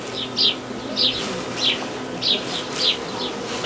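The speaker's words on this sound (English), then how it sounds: "Can you hear the birds, by the way?" Small birds chirp in short, bright bursts at a quick, fairly regular pace over a soft outdoor hum in Tabo, Spiti Valley, fairly near and moderately loud.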